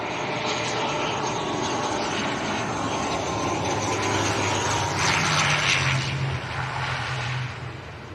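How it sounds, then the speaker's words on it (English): An ATR turboprop airliner at an airport gives off a steady, loud engine drone with a low propeller hum, holding level throughout before easing slightly near the end. "Noisy old ATR."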